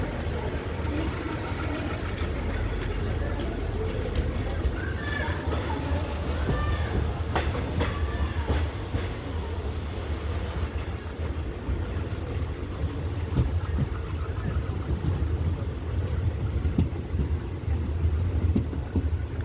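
The diesel-hauled Velankanni Express rolls out of Kottayam railway station with a steady, low rumble and scattered wheel clatter, heard continuously from on board.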